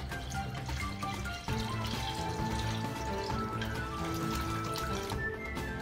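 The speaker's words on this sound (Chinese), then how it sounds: "洗好的面水过滤一下。" Starch-laden water from washed wheat dough pours and trickles steadily through a strainer while making hand-rolled Shaanxi liangpi, a continuous close splashing flow with no pauses.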